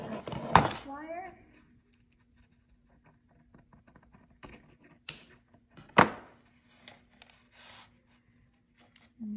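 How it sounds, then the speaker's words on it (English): Wire cutters snip the excess stainless steel wire while a Tibetan-style necklace is being made, giving a few sharp, close clicks with light handling noise and small metallic taps in a quiet room. "And then I'm going to cut off the excess wire."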